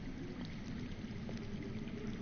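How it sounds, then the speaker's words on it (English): Underground water in the Game of Thrones Telltale video game, a faint, steady trickling flow that holds as a low continuous wash throughout. "I hear water. From underground."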